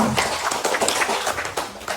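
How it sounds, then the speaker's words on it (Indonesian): An audience of teachers clapping their hands at a school training session, a dense, continuous round of applause from a group, fairly close and sustained for the whole two seconds. "Sekali lagi tepuk tangan untuk kita semua."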